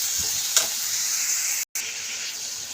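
Eggplant and potato frying with panch phoron in a hot pan, stirred as they cook; a loud, steady sizzle runs throughout and cuts out for a brief moment midway.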